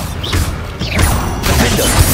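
Confringo and Bombarda spell blasts in the Hogwarts Legacy video game: a rapid series of loud whooshing bursts and crashing impacts, close and forceful, with bits of voice mixed in.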